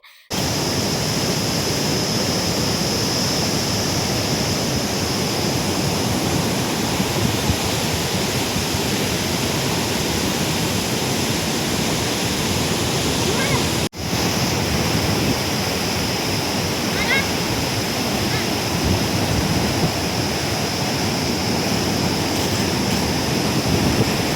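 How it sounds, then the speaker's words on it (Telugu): Flowing water rushes in a steady, loud, unbroken wash, with wind adding to the broadband roar at an outdoor nature spot. "విన్నారు కదా వాటర్ సౌండ్ ఎలా ఉందో"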